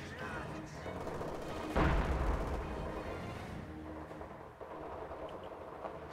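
Mortar blasts and gunfire in the video game Company of Heroes 2: a dense, loud wash of battle noise with a heavy boom near the start, then rumbling explosions and scattered shots fading lower.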